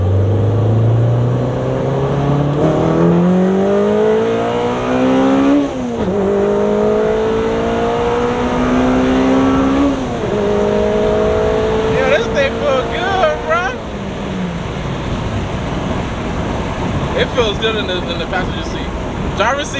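A head-swapped 9th-gen Honda Civic Si with a K24/K20 engine accelerates hard through several gears, its revs climbing steeply and dropping at each shift. The engine is loud and close, with people talking over it.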